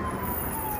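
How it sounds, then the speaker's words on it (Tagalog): Ambulance siren wailing past on a city street, heard faintly and briefly in the distance beneath general traffic noise. "May ambulansya pa."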